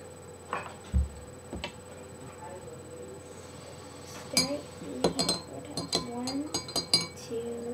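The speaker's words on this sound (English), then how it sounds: "Then pour 200 milliliters of CC lemon into that same cup and stir it 3 to 4 times." A spoon stirring milk and CC lemon in a cup, a quick run of light metallic clinks against the cup near the end, with a person talking over it.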